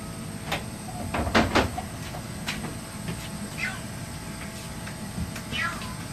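A gray kitten, a young rescue in care, gives several short high meows and cries, moderately close, over a steady room hum with occasional bumps and clatter.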